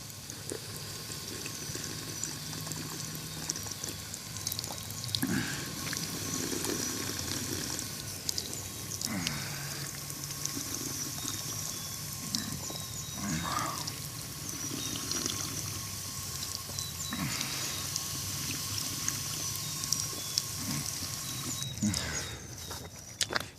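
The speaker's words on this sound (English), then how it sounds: "Water fountain, I am not sure if that is turned on yet or not" A park drinking fountain in early spring runs with a soft, steady pour and trickle of water, close and fairly quiet, with a few footsteps and small handling sounds around it and no talking.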